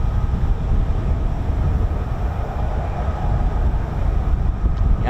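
An F-35B stealth fighter jet hovers at RAF Marham with a steady, loud, broad engine roar and heavy low rumble that holds evenly throughout, with no voices.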